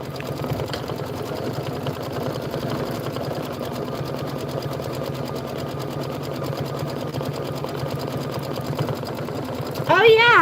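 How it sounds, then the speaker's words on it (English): An embroidery machine stitches a fence placement line for a spring bunny-trail quilt block, a steady fast mechanical whir running loud and close throughout, with a brief sharper burst at the very end. "we're going to stitch the fence placement line"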